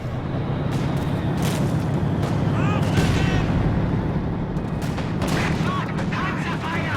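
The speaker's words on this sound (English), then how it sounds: "Great range and firepower, but very slow rate of fire. It's just a big, slow cannon." Firefly tank cannon fire in a World War II tank video game, a loud, dense battle soundscape of booming shots and rumbling engines, with a few sharper reports and whines over a constant low roar.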